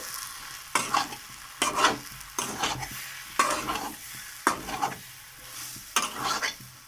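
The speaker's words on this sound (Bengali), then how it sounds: "দিয়ে ভালো করে আলুটা প্রায় কষানো হয়ে এসেছে" Potato and cauliflower chop filling, with grated beet and salt, stir-fried in a pan. A steady sizzle runs underneath, and about seven distinct scraping strokes come at a regular rhythm, close and fairly loud.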